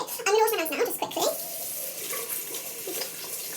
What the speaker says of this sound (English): I'm going to wash my hands now, just quickly.